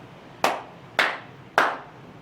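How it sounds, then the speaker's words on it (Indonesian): One person claps three sharp, separate times at an even pace, close to the listener, with quiet pauses in between at a children's Sunday school service. "Tuh, dengar gak suara tepukan aku?"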